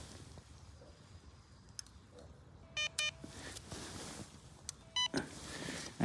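Short electronic beeps from a fishing bite alarm come in two brief bursts, each a quick run of tones over quiet outdoor background hiss at a lake in winter.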